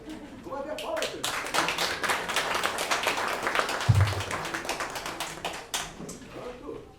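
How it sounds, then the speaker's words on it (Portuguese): Audience applause at a celebration, with many hands clapping steadily for about seven seconds at a moderate, fairly close level. "Palmas! Vamos ver palmas"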